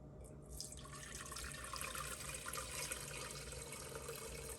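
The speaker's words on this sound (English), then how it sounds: "So now I'm gonna pour my juice back in my pot." Elderberry juice pouring steadily back into a pot, a continuous close splashing trickle with no voices.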